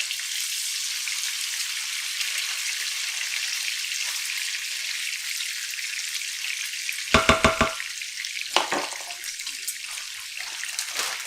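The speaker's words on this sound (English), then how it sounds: "Got some cherry wood smoked bacon going here" Cherry wood smoked bacon fries in a pan with a steady, close sizzling hiss throughout, broken briefly by a few clinks of a utensil against the pan.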